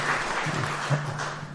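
A church congregation gives a short round of applause, a soft wash of many hands clapping at a moderate distance with a low steady hum beneath.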